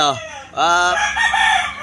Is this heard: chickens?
yes